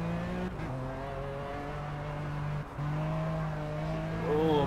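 Engine of a Lykan HyperSport in the racing video game Project Cars at Mount Panorama, strong steady drone climbing through the revs with brief drops at gear shifts, then rising again.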